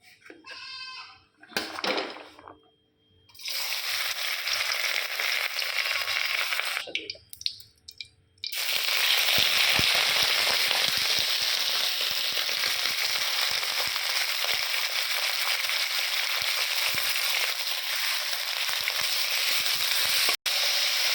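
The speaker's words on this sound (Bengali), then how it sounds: "মাংসটা হালকা ভাজা হয়ে যাবে" Meat fries in hot oil, with a few short bursts of noise and clatter before a loud, continuous sizzle settles in and carries on steadily to the end.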